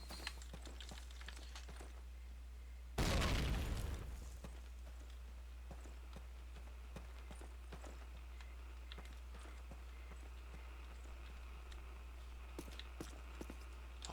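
Grenade blast in Call of Duty, a WWII D-Day mission, bursts loud and close as a single broadband boom around three seconds in, fading over a second into a busy battlefield bed of scattered distant clatter and small arms.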